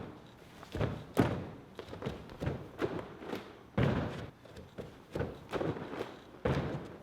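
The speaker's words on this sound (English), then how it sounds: "We're gonna demonstrate some box jumps right now" Repeated heavy thuds of feet landing on a plyometric box during backflip training, about a dozen irregular impacts over several seconds, close and fairly loud with no talking.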